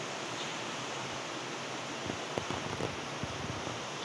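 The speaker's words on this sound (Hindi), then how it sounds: "ये देखिए आप बारिश की आवाज़" Heavy rain pours steadily during a downpour in Uttarakhand, a broad continuous hiss with a few faint taps and drips standing out near the end.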